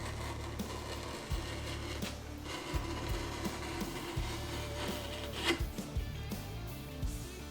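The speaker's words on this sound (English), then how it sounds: "So I'm very delicate using the scraper to kind of ease off some of it." A hand scraper on a wooden table that still holds old finish after stripper makes repeated short rasping strokes, close up, with scattered small knocks.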